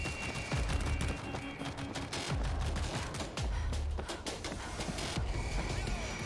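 Auto turret gunfire in World War Z, rapid bursts of repeated shots firing in a steady rhythm against a busy game background.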